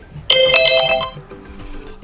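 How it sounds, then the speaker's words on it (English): An iPhone 14 Pro alarm ringtone chimes in suddenly and loud, a bright run of ringing tonal notes that holds for about a second before fading under soft background sound. "you can always just tap on one of those ringtones to set up the best one for you"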